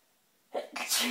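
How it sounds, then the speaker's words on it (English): A single close sneeze, a quick intake followed by a sharp burst. "Sorry, I was gonna sneeze."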